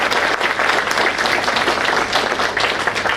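Sustained audience applause honoring Rakesh, a newly appointed chairman, filling the room with dense, steady clapping at full loudness for the whole stretch, with no talk over it.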